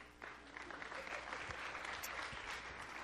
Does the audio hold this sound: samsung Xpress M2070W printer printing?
no